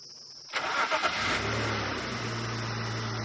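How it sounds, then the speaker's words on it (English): A safari vehicle engine starts up with a brief rev during a sunset game drive, then settles into a steady low idle running on its own. "just let the engine run for a bit, just so that she gets accustomed to the sound"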